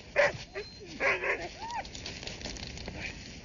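A dog in an Antarctic expedition drama barks a few times and then whimpers and yips, fairly close, over a steady hiss of background noise with no clear talk.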